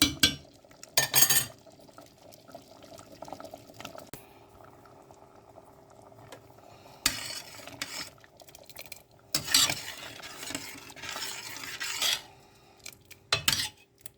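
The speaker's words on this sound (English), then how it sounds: "Mix well while cooking the lentils." Lentil soup bubbling in a pot on the stove, with a spoon stirring and scraping against the metal sides in several short, sharp bursts over a quiet simmer.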